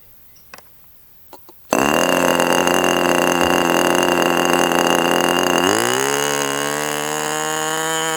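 A Fox 25 BBRC model glow engine bursts into a loud, high-pitched buzzing run after a few faint clicks, holding a steady scream, then its pitch shifts and settles slightly lower as the needle is adjusted.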